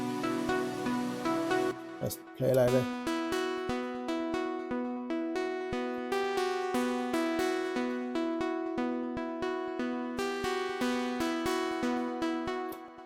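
A bright plucked synth melody in an Afro House track, a second pluck layer copied from the first melody, steady repeating notes with crisp attacks. A brief voice speaks near the start before the pattern settles into an even rhythm.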